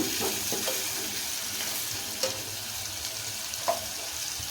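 Onion and garlic frying in a pan until golden, a steady moderate sizzle with soft scraping stirs and a couple of louder spatula clinks against the pan, no speech.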